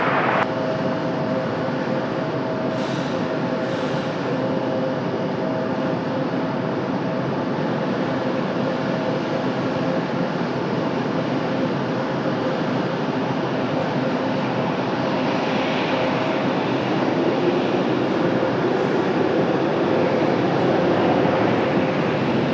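Airliner landing at Raleigh-Durham International Airport in the evening, a continuous loud broadband engine roar that holds steady throughout, with no talk.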